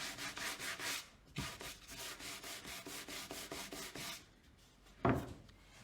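Sandpaper rubs over a painted wooden rustic lake porch sign in quick back-and-forth strokes, steady and close for about four seconds, then a pause and one short final scrape.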